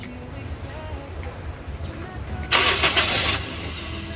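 A Toyota Corolla engine, just fitted with a new alternator, idles low and steady, then a burst of starter cranking lasts under a second before catching, loud and close in a workshop setting.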